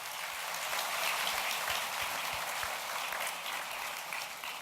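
Audience applause at a depression center benefit luncheon, a dense, steady wash of clapping from a crowded room that holds at even loudness throughout, with no voices.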